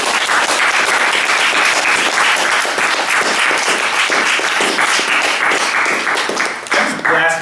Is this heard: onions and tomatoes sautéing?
no